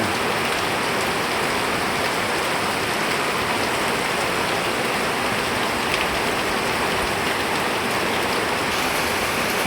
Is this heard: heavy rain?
yes